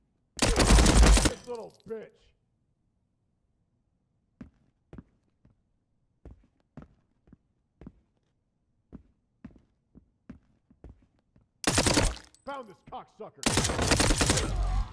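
Loud, close bursts of rapid gunfire in a tactical first-person shooter, one volley at the start and two more near the end, separated by a long quiet stretch of sparse faint clicks and taps.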